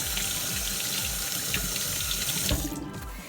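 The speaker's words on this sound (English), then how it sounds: "Go ahead and wash my hands." Tap water runs steadily into a sink while hands are washed beneath it, a close continuous splashing that stops abruptly near the end, in a home kitchen during fajita preparation.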